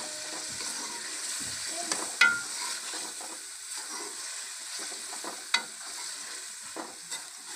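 Potatoes coated in masala with coriander fry in a pan for dhaba-style aloo bhindi, a constant soft sizzle broken by occasional sharp clacks and scrapes from stirring.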